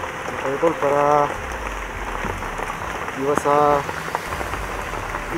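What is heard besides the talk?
heavy rain falling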